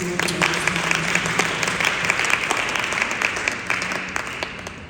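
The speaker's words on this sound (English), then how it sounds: "Let us clap our hands once again." A church congregation claps hands together during a sermon, a dense and loud burst of applause held steadily for several seconds before easing slightly at the end.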